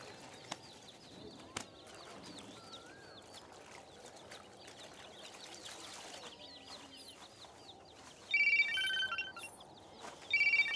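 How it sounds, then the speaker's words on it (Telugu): A telephone rings with an electronic tone in two short bursts near the end. Faint roosters and birds cluck and chirp in the rural background before it. "ఫోన్ వస్తుంది వినపడ్డలా?"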